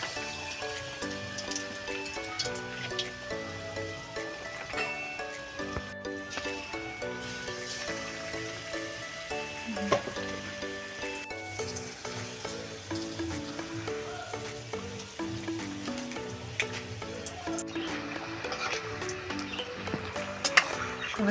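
Cauliflower and potato chops fry in a kadai with a steady, dense sizzle that carries on unbroken for the whole stretch, loud and close, with no voices over it.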